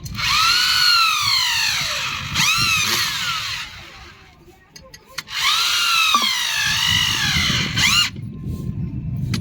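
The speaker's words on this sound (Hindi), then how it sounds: "अभी से स्क्रू को इस जगह पे हम कसने वाले हैं इस प्रकार से" A power drill drives a screw into a satellite dish bracket in two long whining bursts that rise and fall in pitch, with a short pause between them and scraping, handling noise around them.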